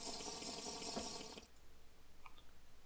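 Filtered water being drunk in a Minecraft modpack makes a steady, close, gulping water sound for over a second. It then stops, leaving quiet background and a faint tick.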